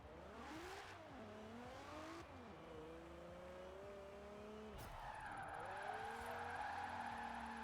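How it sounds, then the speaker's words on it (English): A car drifting around a circuit in third gear in a racing video game, its engine revving and falling in long sweeps under continuous tire squeal, loud and steady with no talk. "let's try out third gear and see if I can run a nice little drift around the circuit here"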